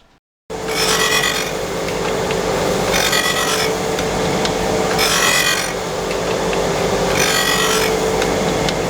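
Loud, continuous sanding noise against the front face of a wooden board for a homemade sine plate, with periodic brighter scratchy strokes recurring every two seconds or so, close up.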